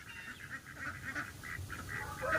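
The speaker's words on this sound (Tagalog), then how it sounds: "Ito na lang itong rare na breed ng duck. Peking duck from Cotabato." Peking ducks calling, a run of short nasal honking quacks in an uneven rhythm at moderate distance, over a low outdoor rumble.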